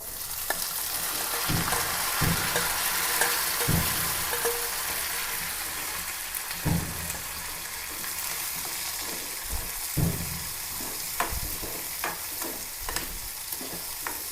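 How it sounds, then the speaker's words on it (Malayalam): Onions, curry leaves and chili frying in a pan after mustard seeds, with a steady broadband sizzle throughout and repeated scraping stir strokes at an irregular rhythm, close and fairly loud, with no talking. "കറിവേപ്പിലയാണ് മറ്റൊരു മുളകാണ് ഉള്ളി കൊടുക്കാം"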